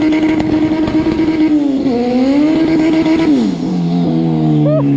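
A 550 hp turbocharged Honda Integra DB1 with a cable transmission is run hard on a dyno, giving a loud, sustained engine drone that holds, dips and settles lower as the revs shift, close and dominant.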